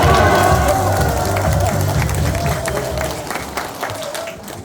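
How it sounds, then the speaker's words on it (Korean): Audience applause and cheering fill a large fourth-floor auditorium of a senior citizens' center in Gwangmyeong during a welcome address at an elder-invitation festival, a dense crowd of clapping that fades slightly toward the end. "이분한테 다시 한번 큰 박수로 부탁드립니다."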